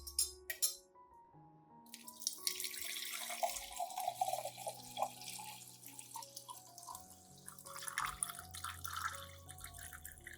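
Clean water being poured and mixed with a tablespoon of coffee grounds as orchid feed, running and trickling steadily for most of the stretch, close and moderately loud, with faint clinks at the start.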